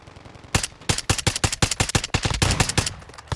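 Rapid gunfire in the Warzone battle royale shooter, a fast run of about a dozen sharp, loud reports in steady automatic rhythm with no talk over it.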